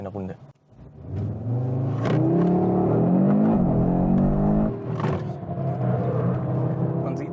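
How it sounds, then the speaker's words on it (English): An Audi RS 3 prototype drifting in Torque Rear mode, its engine revving loudly and steadily with rising and falling pitch through tight bends, someone speaking over the drone. "Even in drift mode, you can see that we can maintain good control over the car"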